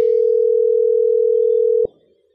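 A steady single-pitch tone from a Mitel 5324 IP phone sounds loud and alone for nearly two seconds while calling the voicemail system, then cuts off abruptly into a faint tail.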